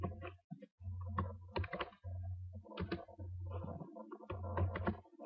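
Typing on a computer keyboard to enter a photo's location and year, with bursts of quick, close key clicks separated by short pauses, alone and fairly quiet.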